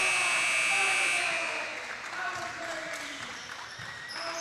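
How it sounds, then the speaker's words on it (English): A loud buzzer blares at the end of a high school basketball play in a gym, a steady tone lasting about a second before fading into crowd noise and the murmur of an announcer. "At the buzzer."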